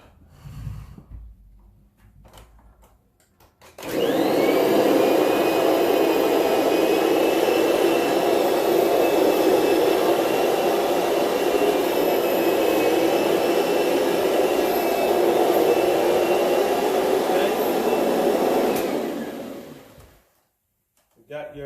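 A Kirby carpet shampooer, lowered and set in drive, switches on and runs with a loud, steady whirring roar and a faint whine for about fifteen seconds, then powers down, alone and close.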